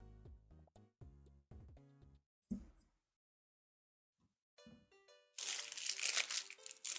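Wet foil food packaging being chewed by a cat crinkles and crushes in short bursts, then loud dense close crackling at the end, with a few brief human voice sounds mixed in earlier.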